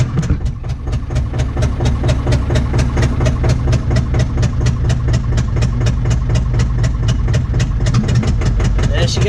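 Digger engine on a cold start, a loud heavy diesel idling with a rapid, even knocking chug that holds steady throughout, close by and dominant, with a voice talking over it.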